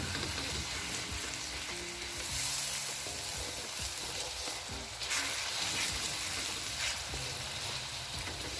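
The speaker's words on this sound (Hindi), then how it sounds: "दो मिनट तक आपने इसको फ्राई करना है, इसकी स्मेल थोड़ी कम हो जाए।" Onions and masala frying in a pan for a karara bhuna gosht, a steady broadband sizzle with faint stirring clatter underneath, close and continuous without talk.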